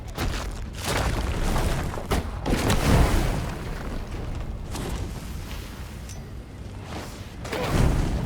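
A table blown up in Divinity Original Sin 2, a series of rumbling explosive booms and crackling bursts of moderate loudness, with no talking.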